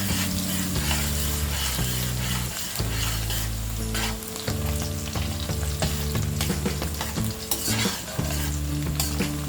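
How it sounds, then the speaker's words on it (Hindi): Sliced garlic fries in oil until golden, a steady close sizzle with a spoon or spatula repeatedly scraping and stirring the pan, no voices. "गार्लिक यानी लहसुन को हम गोल्डन होने तक फ्राई करेंगे"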